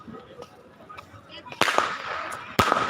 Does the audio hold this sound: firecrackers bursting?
yes